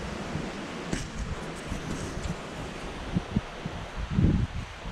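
Strong gusting wind during a storm on the Oklahoma plains, a steady broadband roar buffeting the microphone with louder rumbling gusts, alone with no talk.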